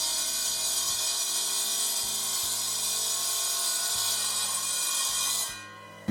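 A power saw grinds steadily through quartzite stone in a factory cutting shop, a loud sustained whine with regular low thumps, then tapers off at the end.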